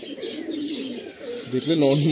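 Many pigeons cooing together in a pigeon loft, soft rolling coos near and clear, with a person speaking briefly over them toward the end.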